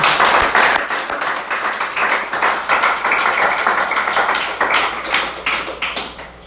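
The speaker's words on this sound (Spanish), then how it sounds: "Si yo fuera usted, le doy un aplauso al Señor" A church congregation claps together in dense, loud, sustained applause that fades slightly toward the end, with no one speaking over it.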